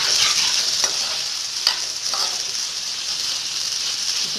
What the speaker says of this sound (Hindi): फ्राई करना है क्योंकि हल्दी चिपकती है इसलिए।